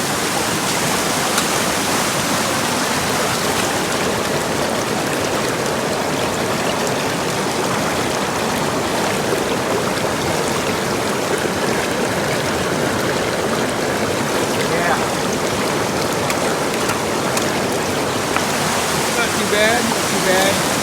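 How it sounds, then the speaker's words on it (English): Raging white water rushes beside a sluice box at a gold-panning spot, a loud, constant broadband roar that fills the whole stretch without a pause. "we're working near raging white water"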